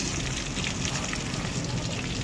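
Dense, steady sizzling and crackling of tuna frying in hot oil, close and continuous.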